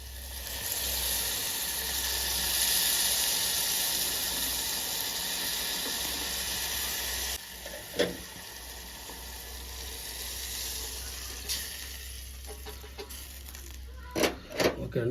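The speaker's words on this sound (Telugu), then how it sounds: "ఇప్పుడు ఇందాక కలిపెట్టుకున్న పెరుగు పులుసు అనేది ఇప్పుడు వేసుకుందామండి" Yogurt-based buttermilk mixture (majjiga charu) poured into a hot pan, sizzling and hissing steadily and loudly, then dropping to a softer simmering crackle with a few clinks of stirring.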